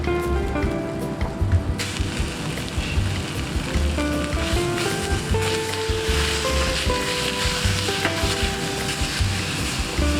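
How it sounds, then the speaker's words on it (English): Food sizzles and crackles steadily in a hot pan, with faint background tones and occasional light clinks, no talking. "So we're gonna sizzle it a bit more."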